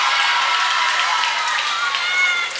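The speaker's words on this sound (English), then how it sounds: "That's where you hear the fans cheering." Fans cheering at a high school varsity swim meet, a steady wash of crowd noise, shouting and some applause filling the whole short stretch, loud and even from start to finish.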